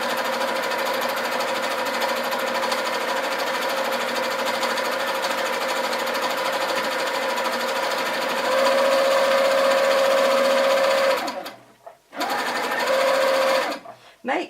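A Handi Quilter longarm quilting machine stitching flowers while couching wool gives a steady, rapid mechanical whirring and needle chatter. A sustained tone rises midway, and the machine stops briefly twice near the end.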